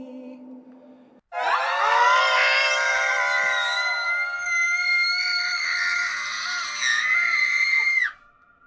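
A single long, loud, piercing scream from a cartoon character, sustained for roughly seven seconds after a brief quieter moment, alone with no talking over it.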